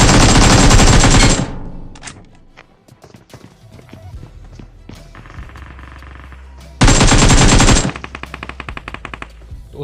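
Automatic gunfire from a weapon in the mobile battle royale game BGMI, two loud sustained bursts at the start and near the end, with scattered single shots and game sounds between them.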